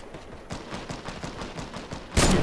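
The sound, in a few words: sniper rifle shot in Fortnite video game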